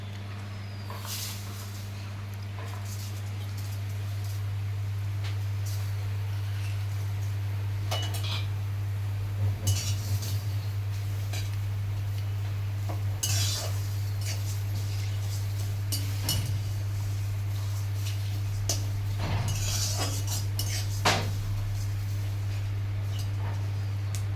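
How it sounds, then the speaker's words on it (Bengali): Dry chilli, cumin, coriander and fennel being roasted in a pan, heard as soft scattered clinks and scrapes of a utensil against metal over a steady low electrical hum. "লঙ্কা দিয়ে দিলাম, এখানে জিরে, ধনে আর হচ্ছে মৌরি, এই 3টা মশলা আমি এখানে ভেজে নেব।"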